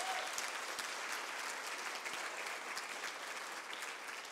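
Steady applause from a church congregation during a family worship service, sustained and fairly loud throughout without a break.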